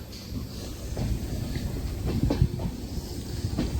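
A fast-moving Indian express passenger train runs on the rails through Tiptur railway station, giving a steady rumbling roar with intermittent clicks and clatter, close and continuous, with no talk.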